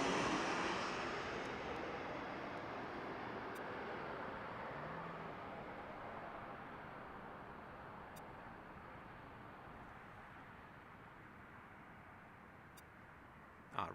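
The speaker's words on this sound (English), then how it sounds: "Southwest coming in on the runway" A Southwest Airlines plane lands at Harry Reid International Airport in Las Vegas: a broad, steady jet roar that is strongest at first and slowly fades, heard from a distance with no talk.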